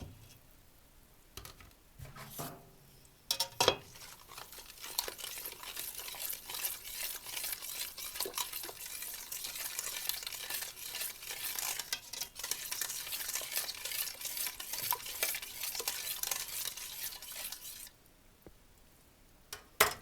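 A spoon stirs a thick dough mixture of salt, sugar, vanilla and sour cream in a bowl, producing steady wet, squelching scrapes that continue for a long stretch with brief pauses near the start and end.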